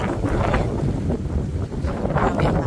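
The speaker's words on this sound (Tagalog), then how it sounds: "Dami ang hangin." Strong wind buffeting the microphone in a tomato garden, a continuous loud roar with gusts rising and falling throughout.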